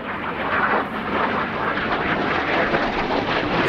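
RAF Red Arrows jets fly at the RIAT 2018 air show, producing a loud, continuous broadband jet roar that holds steady without break for nearly four seconds.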